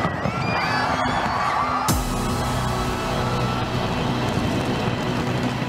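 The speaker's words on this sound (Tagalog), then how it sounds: "Ibinida ng Auckland ang Sky Tower sa pa-fireworks show sa New Year's countdown nito." Fireworks display over the Sky Tower in Auckland during a New Year's countdown, with a sharp bang near two seconds giving way to a dense, continuous roar of bursts and crackle, loud and steady with no voices.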